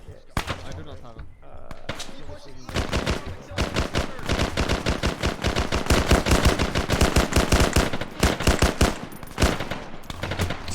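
Sustained bursts of close rifle and machine-gun fire crackle in rapid, uneven volleys, building after a sparse start and continuing almost without pause, with shouted voices among the shots.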